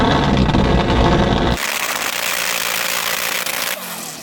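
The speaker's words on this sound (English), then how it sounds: "So I'm going to rev up my Porsche." A Porsche 918 Spyder engine roars loudly at high revs, then drops to a lower, rumbling growl that holds steady before fading slightly at the end.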